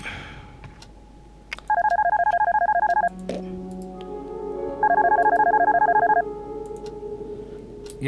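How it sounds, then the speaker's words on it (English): Two bursts of electronic telephone ringing inside a horror adventure game set in a dark house, each a rapid warbling trill of about one and a half seconds, loud and close, separated by a low hum and faint ambient rumble. "Right, let's go answer that phone,"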